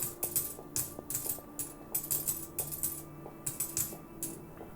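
A series of short, bright chiming blips repeat in quick, irregular succession, coin pickups in an Unreal Engine pyramid game, over a faint tonal background.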